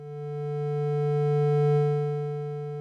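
A single sustained synthesizer tone from Ableton Drift swells in slowly, peaks and then eases down to a steady lower sustain, smooth and harmonic, close and alone without voices.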